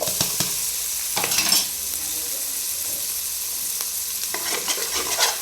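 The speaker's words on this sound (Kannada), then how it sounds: "ಒಂದು ಸ್ಪೂನ್ ಫುಲ್ಲು ಶುಂಠಿ ಬೆಳ್ಳುಳ್ಳಿ ಪೇಸ್ಟ್ ಹಾಕ್ತೀನಿ ಹಾಕ್ತೀನಿ ಟೊಮೆಟೊ ಹಾಕ್ತಾ ಇದ್ದೀನಿ" Tomato and ginger-garlic paste fry in a pan for a chicken curry, giving a loud, continuous sizzle with stirring scrapes that come and go.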